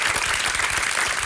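A studio audience claps for a volunteer called up on stage, giving a dense, steady round of applause at close range with no voices over it.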